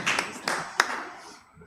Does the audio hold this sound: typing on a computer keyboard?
no